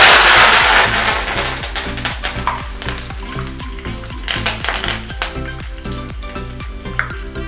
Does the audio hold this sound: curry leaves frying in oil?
yes